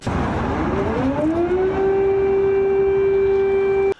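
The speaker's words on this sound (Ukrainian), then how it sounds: "Натомість заревіли сирени" An air raid siren wails over Kyiv, its tone rising then holding a long, steady, loud pitch that carries across the city before cutting off abruptly.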